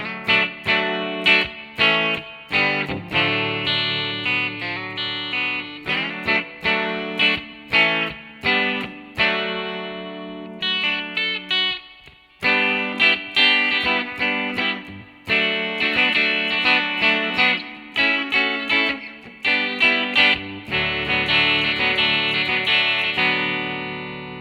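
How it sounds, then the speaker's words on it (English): A distorted electric guitar solo, with chorus-like effects: loud, sustained, and continuous, made of rapid picked notes and ringing bends with no voices. "Guitar solo sounds like this."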